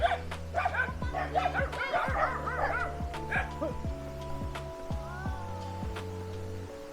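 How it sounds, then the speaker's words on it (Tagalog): Multiple dogs bark sharply and yip over and over, close by, a fast irregular chorus with occasional whines and faint voices in the background. "Galit yung mga aso."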